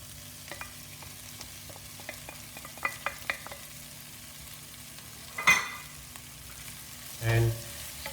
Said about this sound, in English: So now I add the meat.